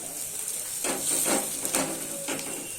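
Masala for a fish curry sautéed in a pan, with soft hissing and sizzling and a few brief scraping stirs, heard faintly and close, with no talking.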